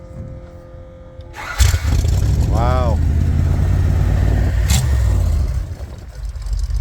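A 1956 Bombardier wide-gauge snowmobile engine cranks and fires up, then settles into a loud, steady rumbling idle close by, with a brief exclamation from someone nearby.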